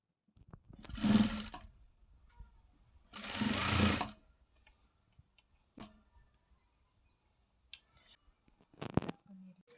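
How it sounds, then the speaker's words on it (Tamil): A sewing machine stitches a sleeve in two short whirring bursts, each about a second long, followed by scattered clicks and handling noises and a brief final burst of machine sound. "இதே மாதிரி இன்னொரு பக்கத்தை இந்த பக்கத்தையும் தைச்சி எடுத்துக்கலாங்க."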